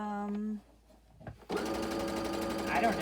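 A home sewing machine stitches a seam on a fabric face mask with about a 3/8 inch seam allowance, whirring steadily and close for about the last half of the span after a brief pause.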